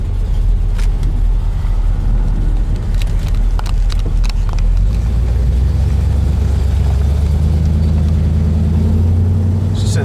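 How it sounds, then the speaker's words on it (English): A 1969 Chevelle with a 350 V8 and a performance cam idling at a stop sign, a loud, steady low rumble that settles into a lumpy, loping idle with a few faint clicks above. "It's got a nice idle, even at a stop sign, you can hear that cam."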